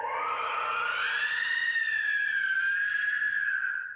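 Banshee noisemaker scream from Team Fortress 2, a single wailing, rising-then-sustained shriek lasting about four seconds, loud and continuous with a slight waver before fading at the end.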